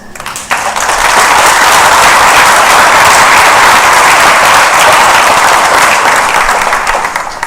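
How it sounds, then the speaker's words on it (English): Loud, dense applause from a large audience at the 2016 TBSC IB graduation ceremony rises abruptly and holds steady as a continuous wash of clapping for about seven seconds, easing slightly at the end. "the TBSC staff have been so amazingly patient with us throughout the years, and therefore deserve a great round of applause from all of us"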